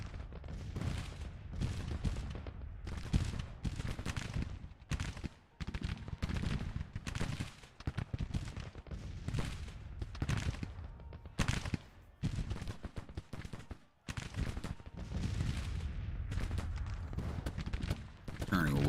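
Civil War infantry rifle fire in Grand Tactician, a dense crackle of overlapping musket shots rolling on and off in ragged volleys, steady and fairly loud with brief lulls, with talk mixed in.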